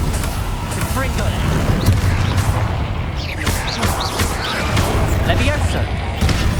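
In Hogwarts Legacy, Confringo blast spells go off as repeated booming explosions among busy combat noise, with spoken voices over the clatter.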